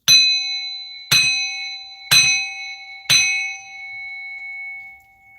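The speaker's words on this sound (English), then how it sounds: "We're going to bang this bell because I feel like I need to." A metal bell struck four times at a steady one-second pace, each bright clang ringing out with a long sustained tone that fades after the last hit.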